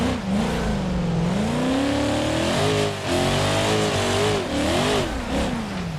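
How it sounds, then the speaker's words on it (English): A race car engine in a racing video game revs up and down through gear changes, its pitch sweeping and dipping repeatedly with brief pauses, loud and up close with no talk. "This car sounds so good."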